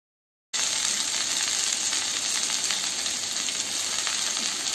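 Mustard seeds splutter in hot oil, a dense crackling sizzle with fine pops that starts abruptly after a brief silence and carries on steadily up close.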